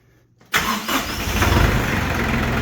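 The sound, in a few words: diesel engine starting in cold weather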